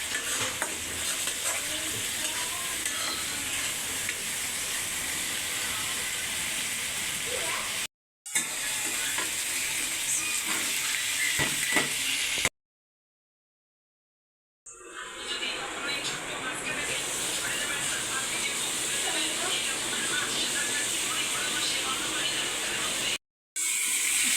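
Dried loitta fish (Bombay duck) and potatoes fry in a pan, giving a loud, steady sizzle with stirring, briefly cut by a few short breaks and one longer silence.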